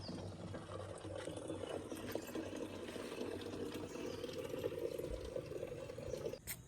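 Heavy rainwater gushes out of a thick roof drain pipe in a steady, continuous rushing pour, close and fairly loud, with no talk over it.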